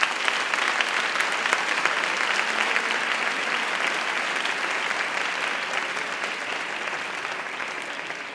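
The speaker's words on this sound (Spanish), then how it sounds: "Un fuerte aplauso para ellos." Sustained applause from the audience at a Spanish music awards gala, a dense, even wash of clapping that holds at a fairly loud level throughout and fades only slightly toward the end.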